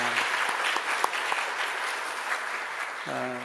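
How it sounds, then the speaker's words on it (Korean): A church congregation at a Korean union revival meeting in Singapore claps in thanks, a steady wash of applause at moderate level that fills the clip, with a brief voice at the start and end. "우리 같이 서로 감사의 박수로 같이 격려할까요?"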